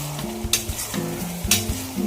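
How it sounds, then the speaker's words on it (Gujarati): Finely chopped potato tumbles into brinjal frying in a pan and is stirred, giving two loud scraping bursts over a steady oily sizzle. "ગાઈસ, હવે આની અંદર બટાકું ઝીણું સમારેલું ઉમેરીશું."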